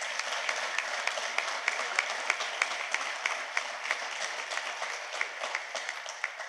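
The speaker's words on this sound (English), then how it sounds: "Let's give them a round of applause." A crowd applauds steadily, many hands clapping in a dense, even wash with a few sharper claps standing out.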